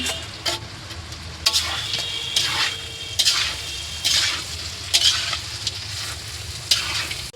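Pre-fried chicken tossed into a hot pan for chilli chicken, a sizzling stir-fry that swells into loud bursts at regular intervals with each turn of the spatula.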